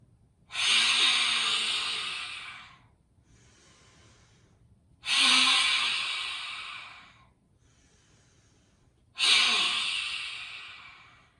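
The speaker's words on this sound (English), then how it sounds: "And that is a very cleansing breath." Three loud, forceful breathy exhales of yoga lion breath, tongue out, each a long hissing whoosh fading away, spaced about four seconds apart with quieter inhales between them.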